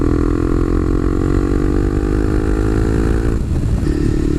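A motorcycle engine sputters and stumbles under throttle, a loud, close, continuous rough drone with an uneven misfiring texture and a brief dip near the end, with no talking.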